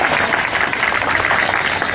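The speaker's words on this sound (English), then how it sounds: "How about a round of applause for some beluga noises?" A crowd at an aquarium beluga show applauds steadily, loud and dense, with no gaps for the full length.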